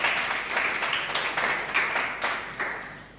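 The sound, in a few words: applause for debating teams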